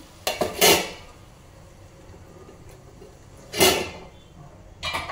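A metal lid clanks onto a pot of potato and fenugreek-leaf curry in a few sharp knocks, with a pause between them, close and fairly loud against a quiet background.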